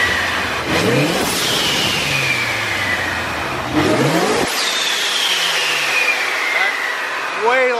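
A Procharged Ford Mustang GT350 V8 with a TiAL blow-off valve revs hard twice, each rev rising in whining supercharger pitch and ending in a loud hiss as the valve blows off, with more revving at the end.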